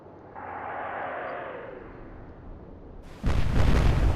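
Heavy naval guns fire in the warship game Atlantic Fleet, a single deep, loud boom arriving late after a stretch of low rumbling ambience and a fading whistle-like tone.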